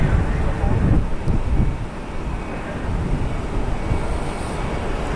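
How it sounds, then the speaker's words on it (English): An American Airlines Boeing 777 arriving from London Heathrow at Dallas Fort Worth, a broad steady jet roar with wind rumble, fairly loud and continuous without any clear rise or fall. "American Flight 79, a 777 inbound from London Heathrow."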